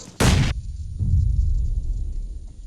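Grenade explosions in the video game PUBG: a sharp, loud broadband blast lasting about a third of a second, followed by a lower, rumbling second burst that rolls on and slowly fades.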